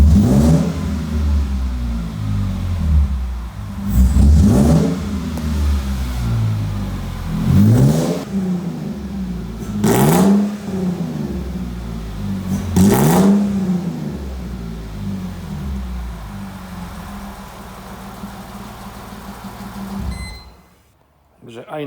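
A Mercedes CLK320 six-cylinder engine idles and revs in short bursts, four sharp rising vroom sweeps spaced a few seconds apart over a steady running drone, close and loud, with voices talking over it before the engine cuts off near the end.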